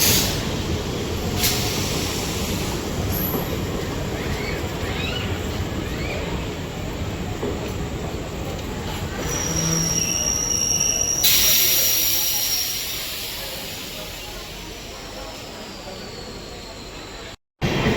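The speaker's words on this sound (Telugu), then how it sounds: "20811 Visakhapatnam Hazur Sahib Nanded superfast express skipping Samarlakota railway station." A superfast express train rumbles steadily past at close range, running through a station without stopping, with a broad roar of wheels on rails, a brief high squeal, and faint voices in the background.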